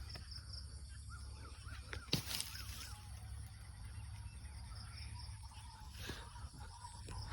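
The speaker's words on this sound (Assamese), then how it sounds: "এতিয়া পূৰা চৰাই চিৰিকটিবোৰে মাতিব ধৰিছে" Scattered bird calls, with cawing and fowl-like cries, sound at dusk beside a pond around a floating house on water. Faint and distant over a quiet, steady background hum with crickets.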